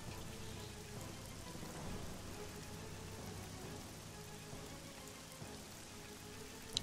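Steady rain from the video game Silent Storm forms a dense, continuous hiss across the whole stretch, with a faint low rumble beneath and a small sharp blip near the end.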